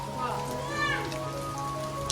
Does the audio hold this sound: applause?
no